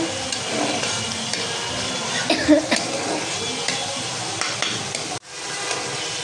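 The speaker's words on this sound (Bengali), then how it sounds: "পালং শাক রান্নার জন্য মশলাটা আমি ভালোভাবে কষিয়ে নিতেছি" Ginger, garlic and green chili spice paste with turmeric frying and being stirred in a pan for a spinach and fish chorchori, a steady sizzle with occasional scraping strokes and a sharp knock near the end.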